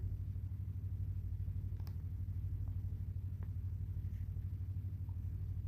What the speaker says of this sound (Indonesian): Kalau kita lihat itu mobil karyawan itu sudah ada lewat di dalam itu guys